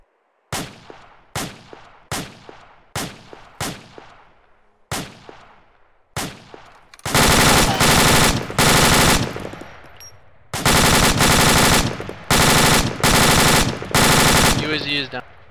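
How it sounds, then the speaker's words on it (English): Machine gun fire opens as several single heavy shots with ringing decay, then gives way to long loud sustained bursts separated by brief pauses, close and dominant. "You're taking fire."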